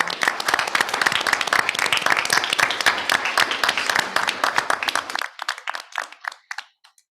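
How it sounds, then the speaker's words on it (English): Audience applause for school district classified staff at a board of directors meeting, dense clapping from a room of people that thins to a few scattered claps and stops after about five seconds. "a round of applause for our amazing classified staff"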